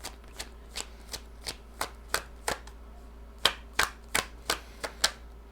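Tarot cards being shuffled and dealt, a series of crisp, close riffling snaps and slaps in an uneven rhythm, about a dozen distinct bursts with no talking.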